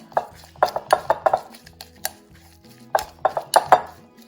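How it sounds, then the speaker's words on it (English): A spoon scrapes and clinks against a bowl while grated garlic and herbs are mixed into butter, in quick irregular clusters of sharp taps with a brief pause midway, close and fairly quiet. "then I've got a couple of garlic cloves that I've grated, goes in as well. And then I'm going to mix it up."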